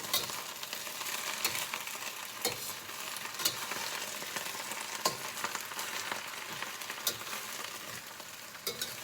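Dandelion greens with garlic fry in a pan with a steady, close sizzle and crackle, scattered with small pops and a few sharper spits, and no one talking.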